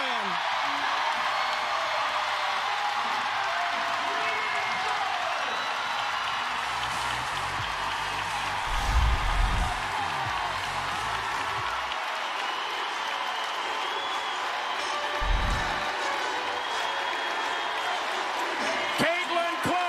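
A packed basketball arena crowd cheers and applauds for Caitlin Clark at an Iowa game, a dense roar of clapping and whoops that swells twice with heavy thuds, a commentator talking over it.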